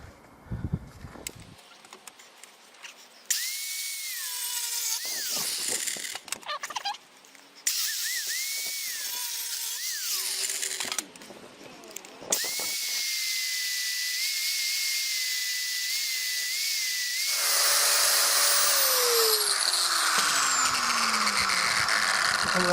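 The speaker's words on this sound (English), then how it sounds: "just flap disc the rest of the metal away to the line" Flap disc on an angle grinder shaving steel down to a marked line during a mono-wheel trailer universal joint rebuild, several loud sustained grinding passes with brief pauses between, the final pass steadier and louder.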